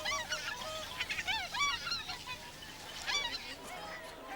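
Whooper swans at a wetland bird observatory give a chorus of nasal, bugling honks, several birds calling over one another in close, continuous bursts.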